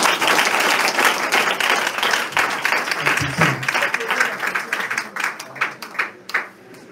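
A church congregation applauds, loud sustained clapping from many hands that thins into scattered claps and fades toward the end, with some voices mixed in.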